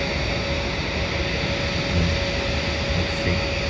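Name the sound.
Singapore Airlines plane taxiing towards the runway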